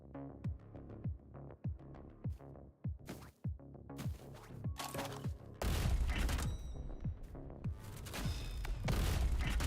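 Gunfire in the battle royale video game Bullet League, a string of punchy shots and booms at an uneven rhythm, growing into denser, louder rapid fire with a rumbling backdrop.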